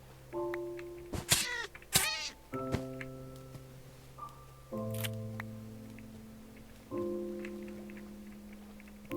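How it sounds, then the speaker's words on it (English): Minecraft player character meowing like a cat each time it is hit, several close, loud, pitched meows spaced a few seconds apart over steady game background tones. "I meow every time I'm hit"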